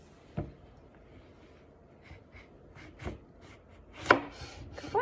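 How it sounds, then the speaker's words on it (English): A knife cutting lemons in half for lemonade makes a few scattered cuts, faint and irregular, alone with no talk. "now please cut the lemons in half"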